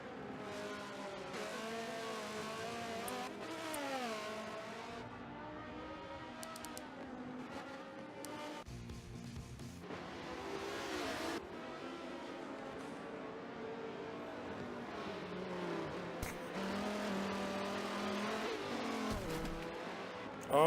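Race cars at Lime Rock are heard at a distance, with engines continuously revving and passing through the corners, faint and steady over the whole stretch.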